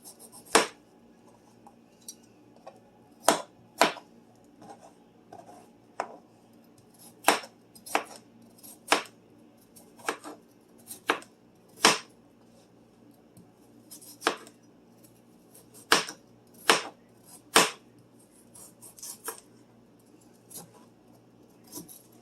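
A knife chops potatoes on a cutting board in irregular sharp thuds, about twenty distinct knocks spaced apart over a quiet background, close and without talk.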